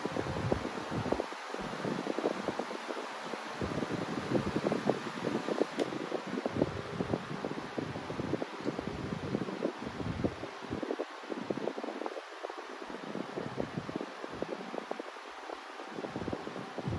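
A Costway high velocity fan with balanced blades runs steadily up close. Its broad airy rush stays constant, with a faint hum and gusty fluttering against the microphone.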